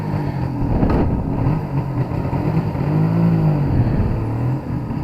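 A Suzuki GT750A classic motorcycle engine runs close by with a loud, steady rumble and slight shifts in pitch, and no talking is heard.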